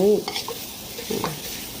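Minced pork sizzles and scrapes in a hot wok as a spatula stirs it over medium heat, with soft clacks over a steady frying hiss.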